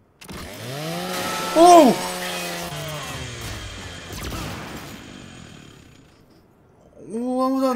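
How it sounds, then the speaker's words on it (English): Lancer chainsaw from the video game Gears 5, a revving, buzzing saw grinding with crunching impacts, loud and close, mixed with game voices and shouts. "Destroy the DB with the Lancer chainsaw."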